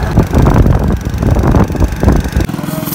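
A motorcycle engine rumbles steadily while riding on the road, half-buried under heavy, continuous wind buffeting with no one speaking.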